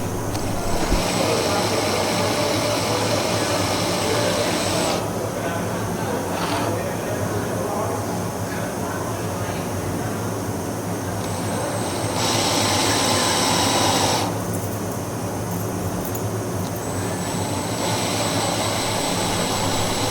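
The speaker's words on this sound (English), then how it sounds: "you will be using a hand drill to countersink your holes" A loud, steady mechanical whine of a hand drill countersinking holes in acrylic runs throughout, with brief changes in pitch as it bites into the material and eases off.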